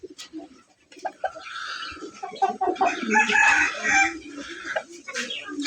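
A fancy red rooster crows among clucking hens at a pigeon and poultry farm, with several overlapping calls and squawks rising and falling nearby.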